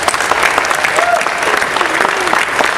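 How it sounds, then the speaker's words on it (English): Audience applause from a live talk crowd, a steady dense wash of clapping sustained throughout at moderate loudness, with faint voices mixed in. "So I want you guys to give yourselves a round of applause."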